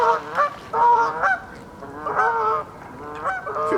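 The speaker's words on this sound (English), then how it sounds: "but them geese, mate, I ain't too keen on them" Geese honk nearby in several loud, nasal bursts, some overlapping, at an outdoor fishing spot, with quieter gaps between calls.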